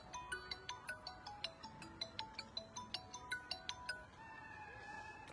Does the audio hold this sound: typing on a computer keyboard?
no